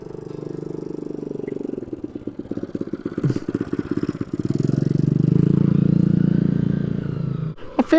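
A motorcycle rides along small dirt tracks, its engine a close, loud, steady rumble that pulses and rises, with a few clattering bumps and a sharp knock at the end.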